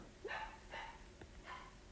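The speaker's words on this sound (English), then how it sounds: "Ignore my dog." Three short, faint dog barks spaced about half a second apart, heard indoors and slightly distant, with no talk over them.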